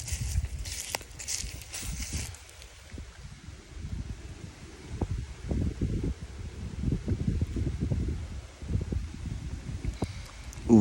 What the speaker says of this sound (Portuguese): O vento, ele mexe com tudo.